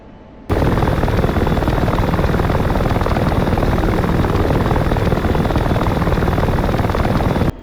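A loud, steady helicopter rotor drone in the flight simulator game Digital Combat Simulator kicks in abruptly after a brief quiet moment and holds constant until it cuts off at the end.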